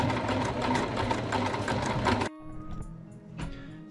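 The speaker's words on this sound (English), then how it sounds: "I'm still sewing the edges." Sewing machine stitching the edges of sleeping bag fabric, a rapid close mechanical chatter for about two seconds that stops abruptly, followed by quieter handling sounds and a few light clicks.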